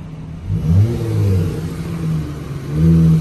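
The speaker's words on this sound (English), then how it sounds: "let me rev it for y'all so y'all see how it sound up" A straight-piped 2013 Dodge Charger V6 revs up close in short bursts, three throaty climbs and falls of the engine over a low idle, loud and unaccompanied by talk.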